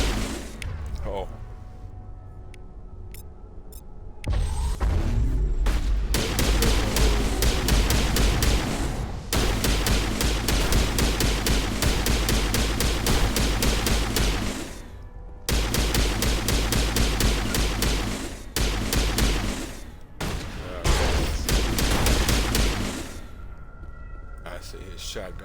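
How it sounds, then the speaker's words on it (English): Rapid bursts of gunfire from a Mass Effect battle including shotgun blasts, long dense volleys broken by short pauses, loud and close, with talk heard amid the shooting. "I see his shotgun had to cool down."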